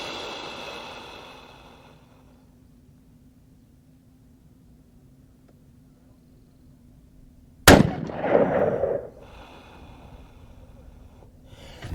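A single sharp, loud .308 rifle shot cracks out in open desert, followed by a short rolling echo and then quiet.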